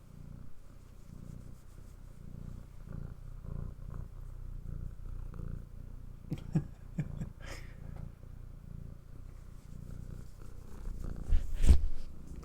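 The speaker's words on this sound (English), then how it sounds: "You're purring, but you're always trying to get away from me." A male cat purrs softly and continuously, a low, steady rumble close by and faint, with a few brief louder thumps and knocks near the end.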